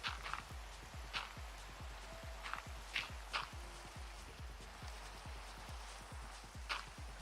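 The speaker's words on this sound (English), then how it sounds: "Oh, how do y'all like the rain?" Modded Minecraft rain, a faint steady patter with regular soft tapping drops and occasional brighter splashes over several seconds, no talking.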